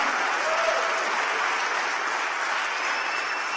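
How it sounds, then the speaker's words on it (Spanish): A church congregation claps in unison, a dense, loud, steady wash of applause from many hands that fills the whole stretch with no break. "démosle palmas al Señor, hermano"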